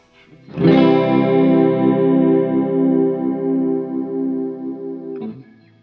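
A single sustained electric guitar chord rings out through an ENO Music Gemini chorus pedal with a shimmering, warbling effect, slowly fading before a brief final pluck.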